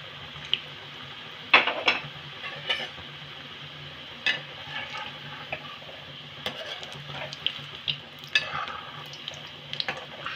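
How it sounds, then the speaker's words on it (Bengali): Moong puli pitha fry in hot oil over a medium flame, giving a faint, steady sizzle with quiet scrapes and clinks of stirring spaced through it. Nobody speaks. "এবার ভেজে নেব।"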